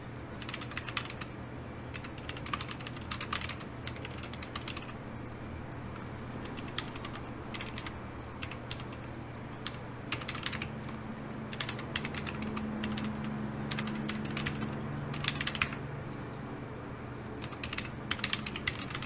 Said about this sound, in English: I just realized I'm sitting in front of all this typing I'm doing,